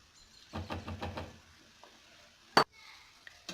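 A quick stir of Algerian barley soup with wild thyme in a pot: a few soft scraping sweeps close by, then one sharp knock of the utensil against the rim. Quiet background.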